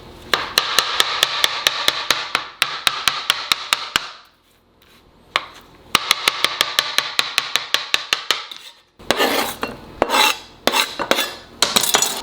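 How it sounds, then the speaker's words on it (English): A knife chops fresh basil leaves on a cutting board in quick, rhythmic, sharp taps, close and crisp, in two runs split by a short pause, followed by clattering kitchen handling noise. "We'll chop those up, throw them in."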